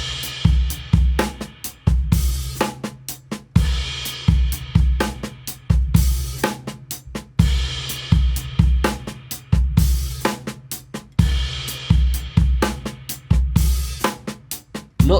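Drum kit plays a slow UK jazz groove, with punchy kick and snare hits under a steady shimmer of cymbals, looping in a clear, loud pattern with no voices.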